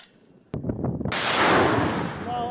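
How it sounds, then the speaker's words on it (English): Heavy artillery fire during fighting in Syria, with a sharp blast followed by rumbling echoes and then a sustained roaring barrage, loud and fairly close. "Opposition forces return fire with their own artillery."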